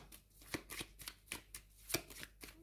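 Tarot cards are shuffled and drawn by hand in a quiet room, a close series of crisp papery riffles and slaps in uneven bursts, about eight distinct strokes in quick succession.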